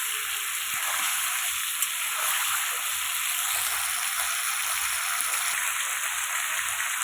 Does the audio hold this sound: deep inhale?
no